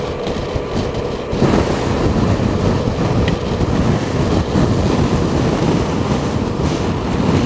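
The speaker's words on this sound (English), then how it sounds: "A little bit breezy up here." Strong wind buffeting an exposed mountain pass at Snake Pass, a loud continuous rushing roar across the microphone with no talking.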